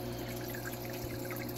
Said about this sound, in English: it then runs down the rock and drips off the front